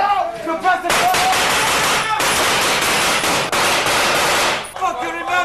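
Machine gun suppressive fire from a military battle, heard as loud sustained rattling bursts that cover most of the clip, with brief gaps and shouting voices before and after the firing.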